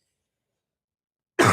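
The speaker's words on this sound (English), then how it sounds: "I've been having this cough and like I got this tickle in my throat" A single short, throaty cough or throat-clear bursts out near the end after near silence, close and fairly loud.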